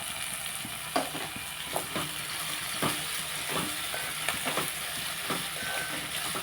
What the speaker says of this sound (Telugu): ఇందులో మనం టమాటాలు కూడా వేసుకుందాం టమాటాలు కూడా వేసేసుకుందాం